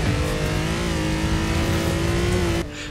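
Cars race past in the open-world racing game Forza Horizon 4, their engines droning loud and near with steady rising harmonic tones before the sound cuts off abruptly near the end.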